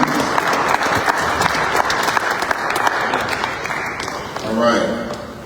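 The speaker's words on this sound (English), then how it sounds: "give yourself a clap, please" An audience claps steadily for several seconds at a gathering honoring a leader, with crowd noise and scattered voices mixed in; the applause swells slightly near the end.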